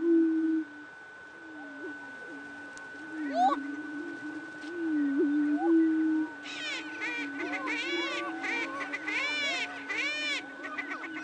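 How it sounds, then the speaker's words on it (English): Male prairie chickens giving hollow hooting calls on the ground outdoors, a low steady tone with overlapping whoops and cackles building in the second half; there is no speech. "And then you also hear hoop calls, which the males tend to make those hoop calls when there's females on the ground."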